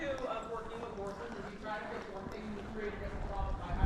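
A horse trotting in a riding arena, quick rhythmic hoofbeats clip-clopping steadily and close by, with a rider's voice over them.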